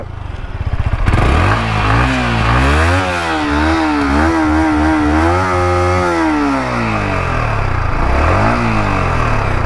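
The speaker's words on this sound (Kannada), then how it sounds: "ಓಕೆ, ಗಾಡಿ ನ್ಯೂಟ್ರಲ್ ಆಗಿದೆ. ಸೌಂಡ್ ಕೇಳಿಸ್ಕೊಳ್ಳಿ." Yamaha MT-15 motorcycle idling in neutral, its engine and exhaust loud and close, with a blip of throttle that rises and falls in pitch before settling back to a steady burbling idle.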